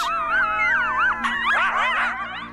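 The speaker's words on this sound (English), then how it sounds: "The pups join in the howl with their higher yips." Coyote pups in Yellowstone howl together in autumn, their wavering, overlapping howls joined by higher yips, close and loud and continuous for the whole moment.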